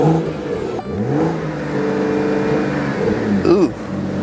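BMW 335i straight-six revs repeatedly, engine pitch sweeping up and down in several rising pulls, loud and close, with a sharp surge near the end.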